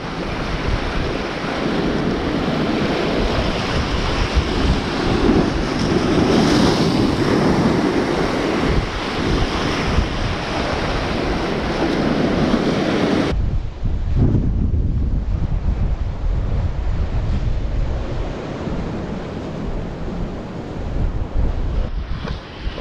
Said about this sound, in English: I've very nearly just lost my balance from a gust of wind